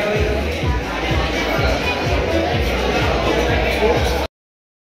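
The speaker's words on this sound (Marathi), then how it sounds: "आज खूप गर्दी आहे इकडे." A busy crowded spot fills with a steady murmur of many voices and shuffling footsteps, a dense close hubbub that runs continuously and then cuts off abruptly near the end.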